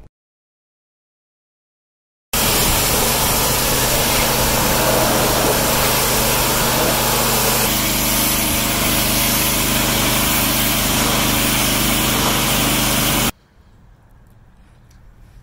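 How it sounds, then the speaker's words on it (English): A gas-powered power washer runs loud and steady for about eleven seconds, spraying down a spray-on truck bedliner, then cuts off abruptly, leaving faint background noise. "So we just power washed it."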